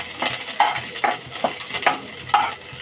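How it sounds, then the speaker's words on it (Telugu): Chopped green chillies frying in hot oil, a steady sizzle broken by repeated sharp stirring scrapes at irregular intervals, close and fairly loud with no voices. "ఆయిల్ కొంచెం హీట్ ఎక్కాక కట్ చేసి పెట్టుకున్న గ్రీన్ చిల్లీ కొంచెం ఫ్రై అయ్యాక"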